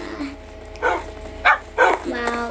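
Tamed dogs in a Minecraft-style video game bark and yip in about three short, sharp bursts over a steady tonal background of game sound, with a faint voice between the bursts.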